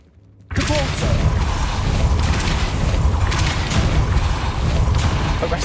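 Depulso force spell cast in the video game Hogwarts Legacy, a loud sudden burst that opens into a sustained, dense roaring rush lasting several seconds.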